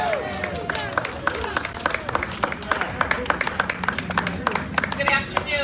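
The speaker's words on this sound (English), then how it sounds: "So give a warm round of applause to the president of the Massachusetts Teachers Association," An audience claps to welcome Merrie Najimy, president of the Massachusetts Teachers Association, with a dense patter of many hands and a few crowd voices mixed in.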